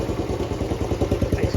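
Engine of a 1969 Honda CT90 Trail 90 motorcycle idling close by, a steady even low-pitched putter of rapid regular pulses with no voices.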